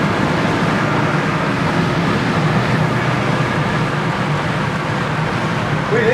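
Engine of a 1965 Pontiac GTO accelerating hard as the transmission kicks down, a loud, steady roar heard from inside the car with broad road noise and no clear talking.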